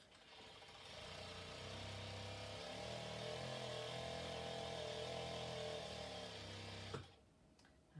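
Sewing machine stitching along the edge of a denim skirt, a steady whirring hum that runs for several seconds, then cuts off abruptly.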